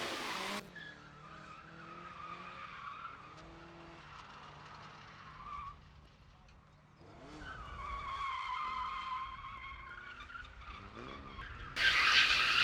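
Nissan R32 drift car skidding on a grassroots drift track, with a sustained engine drone and long tire squeal that fades and then swells again, heard from a moderate distance.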